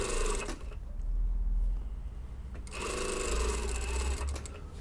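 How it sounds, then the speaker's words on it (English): A sewing machine stitching the side seams of a skirt, running in two long steady whirring bursts with a short pause between, close and alone. "we're sewing down the side seams here"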